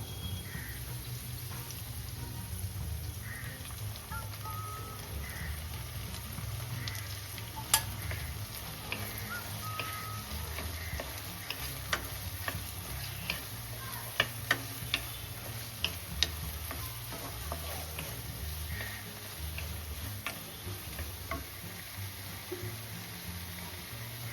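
Ridge gourd and potato with poppy seed and green chili paste cooking in a pan, a soft continuous simmer and sizzle with occasional sharp clicks of a spoon against the pan, quiet throughout.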